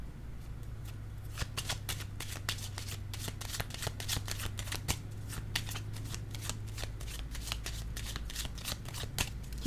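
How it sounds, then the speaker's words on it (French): Tarot cards being shuffled by hand in a quiet room: a quick run of crisp riffling flicks repeating steadily and close up, over a low background hum, with no voices. "Je vais piger une autre carte."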